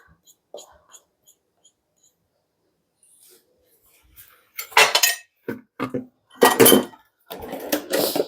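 A metal spoon clinks and scrapes against a bowl while stirring custard with heavy cream, in irregular close bursts after a quiet stretch, with breathy whispering around it.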